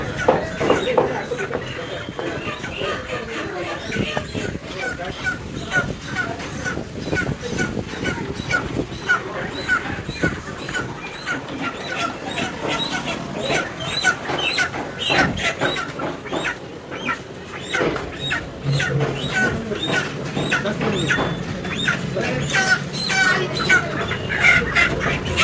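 Chickens clucking and squawking nearby on an outing to buy poultry, with scattered bursts of fowl calls over a busy background and voices talking.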